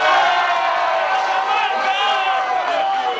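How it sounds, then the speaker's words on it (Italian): A crowd in delirium shouts and cheers at a mock funeral procession for Venice, a sustained dense wall of voices with some rising calls, loud and continuous throughout. "Venezia è viva, grida la folla in delirio."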